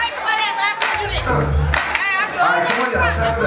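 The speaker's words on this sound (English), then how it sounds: "come on y'all, clap it up" A crowd on and around a stage claps along in quick bursts, the sharp claps mixed with voices and chatter throughout.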